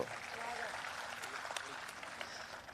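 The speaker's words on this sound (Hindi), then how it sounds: "तालियां बजा के एक बार आप बता दीजिए मुझको" Faint, steady audience applause at a Hindi comic poetry gathering, a crowd clapping continuously with murmuring voices blended in.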